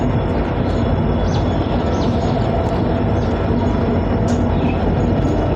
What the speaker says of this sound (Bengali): আমাদের ট্রেন ডিব্রুগড় থেকে কলকাতা স্পেশাল ছেড়ে দিল নিউ কুচবিহার স্টেশন থেকে